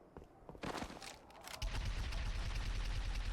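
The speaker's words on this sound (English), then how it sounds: "As you can see, plasma cannon." A plasma cannon fires in Halo 3 in a rapid, continuous burst of loud pulsing shots, preceded by a few scattered sharper blasts.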